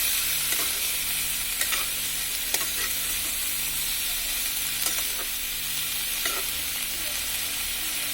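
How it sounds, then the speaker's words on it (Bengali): Stalks, green tomato and beans fry in a pan under a loud, constant sizzle, with occasional clicks and scrapes of a utensil stirring through the mix. "এখন এটাকে আমরা ভালোভাবে নেড়ে নিব। নেড়ে হালকা একটু কষিয়ে নিব।"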